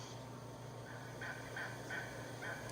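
Wild turkey yelps recorded in a turkey-hunting setting, a series of four or five short, raspy notes repeating at a steady rhythm over a constant low hum and hiss, moderately distant.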